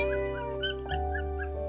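Tiny abandoned puppies, so young their teeth have not grown, cry and whimper for food in high, wavering yelps that repeat steadily and close by, with no talking.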